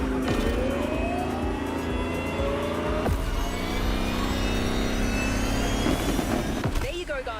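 A Lamborghini Terzo Millennio engine in The Crew Motorfest, loud and continuous, with rising engine tones and a steady roar throughout, under a busy game mix.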